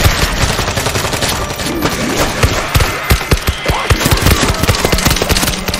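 Sustained shooting in World War Z Aftermath against a zombie horde: dense, rapid automatic gunfire with close, punchy cracks repeating throughout, loud and continuous with no pauses.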